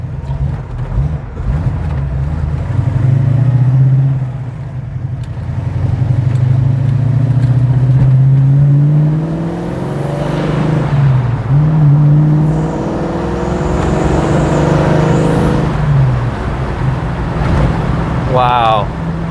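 Car engine after a FiTech fuel injection conversion hums at low idle, then rises and falls as it pulls away and slows, running steadily while someone talks over it.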